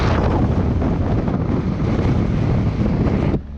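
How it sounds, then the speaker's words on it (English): Strong wind blows outdoors by the water while wading, roaring steadily and loudly against the microphone for several seconds before dropping off abruptly near the end. "There's freaking wind blowing everywhere, shit blowing all over the place"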